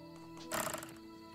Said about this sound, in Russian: повозка лошадь увозит